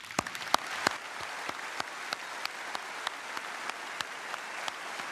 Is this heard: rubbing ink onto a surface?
no